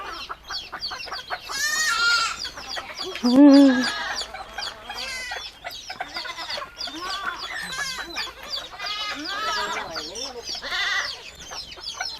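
Bantam chickens cluck and call at an animal rescue charity tea house cafe, with repeated close calls rising over steady background chatter as people talk nearby.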